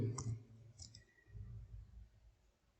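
Computer mouse clicks while building an age formula in an Excel spreadsheet: a few quick, faint clicks near the start, including a double click, over low room noise.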